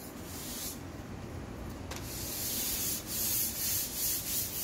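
Sandpaper is rubbed across a wooden cradleboard up close, making a soft continuous scratchy hiss that swells into rhythmic back-and-forth strokes near the end.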